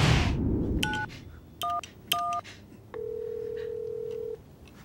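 Telephone handset picked up and dialed: a few short two-tone keypad beeps in quick succession, then a longer steady tone, close and clear over faint room noise.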